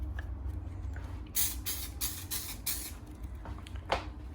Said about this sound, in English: Then we're going to spray a little bit of adhesion promoter.